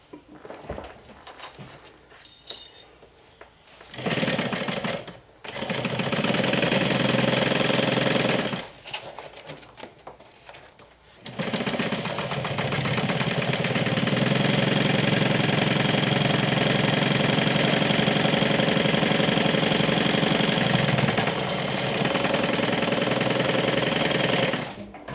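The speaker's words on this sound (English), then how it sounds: "stitch this down with 1/4 inch seam allowance" A sewing machine stitches a quarter-inch seam on a medium-size Joey Tote crossbody bag, running in a few short bursts before settling into a long, steady, continuous drone.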